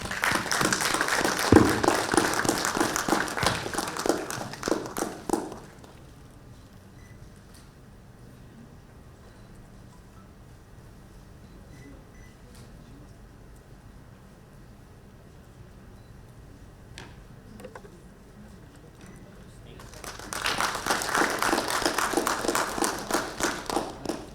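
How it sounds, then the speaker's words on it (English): An audience at an Indian ESG conference session applauds the chief guest: a burst of rhythmic clapping, then a long quiet stretch of low room noise, then a second round of clapping at the end. "Please give a big round of applause"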